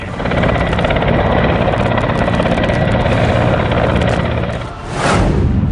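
A military helicopter during an India-US joint exercise at the Mahajan field firing range in Bikaner, its loud, steady rotor thrum and engine whine filling the air, dipping briefly near the end before surging back.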